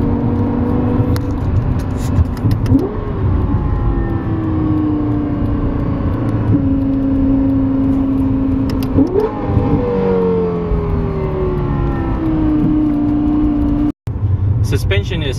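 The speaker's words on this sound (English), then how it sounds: "Lewis, when we slow down for this off ramp, try the left paddle a couple times." A Lexus LFA's V10 drones loudly from inside the cabin while slowing for an off ramp, with sharp blips and rising-falling revs as paddle-shift downshifts click through, then a brief dropout and resumed engine noise.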